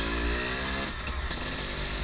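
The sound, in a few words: Yamaha Force One 110cc motorcycle engine revving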